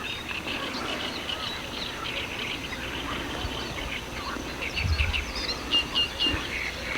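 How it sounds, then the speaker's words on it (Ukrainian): Birds singing outdoors among green grass and clover near the Bug river in Ukraine, with steady chirps and calls spread across the whole stretch over a constant background hiss, moderately distant, and no one speaking. "Птицы поют."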